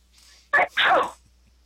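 One sharp sneeze bursts out close up, a quick inhale then a forceful, breathy expulsion, followed by quiet.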